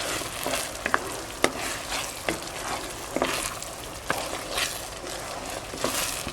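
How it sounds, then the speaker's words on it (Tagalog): Biko, a sticky rice cake, is stirred in a pan over low heat, giving a continuous soft sizzle broken by repeated scraping and stirring strokes at an irregular pace. "At papatuloy lang po natin yung paghalo natin dito sa ating biko."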